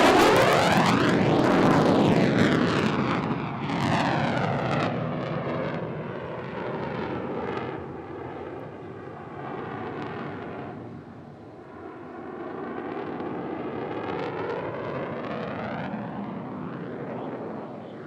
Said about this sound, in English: Accelerating the jet now. He's looking to go skyward up to the stars.